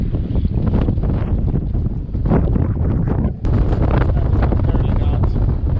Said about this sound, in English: we gotta watch out for sudden gusts here. Probably got about 20 knots right now.